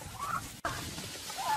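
Turkeys gobble faintly and at a distance in short bursts, with no voices over them.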